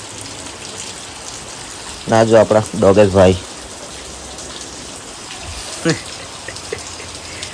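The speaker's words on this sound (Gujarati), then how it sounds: "અત્યારે જો બહુ વરસાદ આવવા લાગ્યો છે" Heavy monsoon rain pours in a constant wash while someone speaks briefly in Gujarati, with another short voice near the end.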